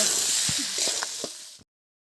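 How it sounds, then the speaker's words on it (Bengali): Chicken skin and feet frying in spices in a pan, a loud continuous sizzle with a few stirring knocks, cutting off abruptly near the end. "পনেরো থেকে 20 মিনিট কষিয়ে নেব।"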